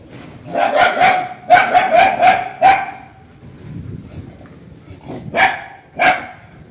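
A dog barks at another dog in quick clustered bursts, pausing briefly, then two more sharp barks near the end; the barks are close and loud, and nobody speaks.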